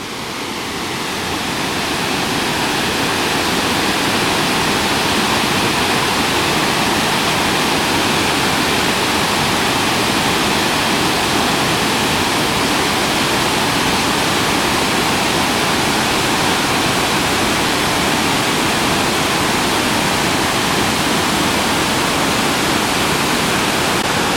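Iguazu Falls in Argentina, seen from the Upper Trail, thunder with a constant, loud, broadband roar of rushing water that holds steady throughout, with no talking.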